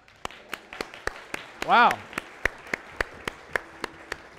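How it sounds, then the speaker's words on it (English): Sparse, rhythmic clapping from a church congregation, evenly spaced sharp claps that continue throughout, with a voice briefly exclaiming partway through. "Give the Lord a clap."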